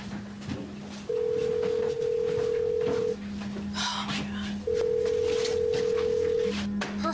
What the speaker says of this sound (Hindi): उसका फोन बैग में बज रहा है।